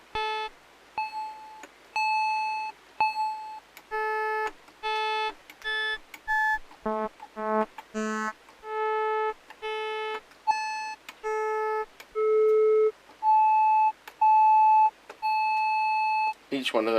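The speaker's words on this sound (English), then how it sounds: "So let's put electric piano for position 1," Casio MT-41 mini keyboard set to its electric piano voice plays a string of short bright electronic notes in a bouncy melody, some quick runs of lower tones, loud and close with no talking.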